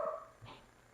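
A dog barks indoors in a house, giving one or two short, fairly faint barks that fade quickly, with no talking.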